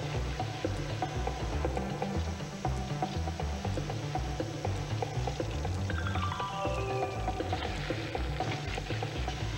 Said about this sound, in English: The rest of this commercial is just pure sizzle.